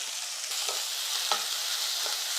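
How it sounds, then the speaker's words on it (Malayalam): Onions and tomatoes fry in a pan with sausage masala, giving a steady, moderately loud hiss and sizzle with a few soft scrapes and stirs, close up and with no talk. "നമ്മുടെ സവോളയും തക്കാളിയും ഒക്കെ നന്നായിട്ട് വഴന്ന് വന്നിട്ടുണ്ട്"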